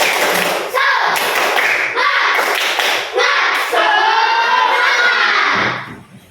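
Rhythmic group clapping in a school classroom, a loud patterned cheer clap with children's voices chanting along, running for several seconds before cutting off.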